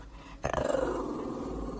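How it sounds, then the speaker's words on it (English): A dog growls close by, a low rumbling snarl that starts suddenly and holds steady, with no clear barks. "Is that who you're barking at?"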